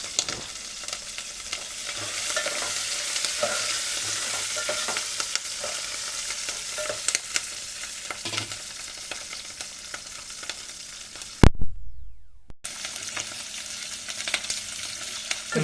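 Dried chillies frying in a pan with moringa leaves, a steady close sizzle with stirring and scraping, briefly cut off near the end before resuming.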